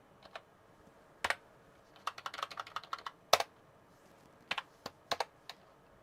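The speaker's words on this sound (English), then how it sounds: "I'm using a spongy keyboard instead of a nice clicky one." Typing on a spongy computer keyboard beside a restored Commodore 64C, heard as scattered bursts of soft, muted keystrokes with pauses between, close and fairly quiet.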